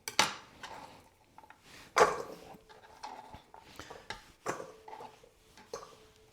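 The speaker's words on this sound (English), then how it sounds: "I'm going to cut them in manageable pieces" A knife cuts harvested vegetables into pieces, giving several sharp, close chopping knocks against a board at irregular intervals, with quiet pauses between them.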